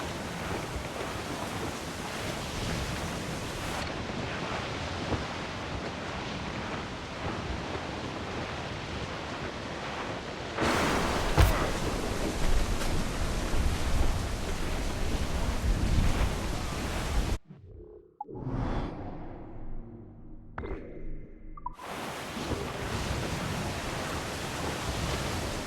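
Stormy, rough open sea in Assassin's Creed IV Black Flag, with loud broadband surf and wind roaring almost throughout, a brief drop to near silence midway, then churning waves crashing back in; no one speaks.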